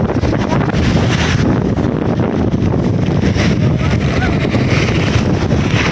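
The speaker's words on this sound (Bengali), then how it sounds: "যতটুকু বৃষ্টি হচ্ছে তার থেকে বেশি হচ্ছে বাতাস, প্রচুর পরিমাণ বাতাস।" Strong wind during a rainstorm in Mecca buffets the microphone with a loud, continuous roar and rumble that never lets up. Any rain is hidden under the gusts.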